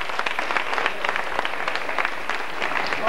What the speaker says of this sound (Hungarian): Egy tapsot kérnék!